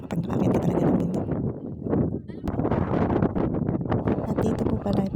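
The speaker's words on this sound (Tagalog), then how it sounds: "ang lakas ng hangin" Strong, foggy wind roars across a mountain summit on a hiking trail, a dense continuous rush with gusts and buffeting against the microphone, while voices talk over it.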